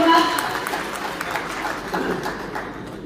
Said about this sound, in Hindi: उन सब के लिए एक बार जोरदार तालियों से उन सबका स्वागत